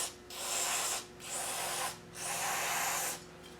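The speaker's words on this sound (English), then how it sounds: "Now we're going to put some brake cleaner, or alleged brake cleaner, in the holes" Three sustained bursts of aerosol brake cleaner sprayed into threaded holes during a Rover air locker pinion and crown wheel fitting, each a steady hiss of about a second separated by short pauses, close and alone.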